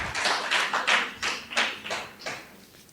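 A congregation at a Christmas church service gives a short round of applause, several bursts of clapping that fade out within a few seconds.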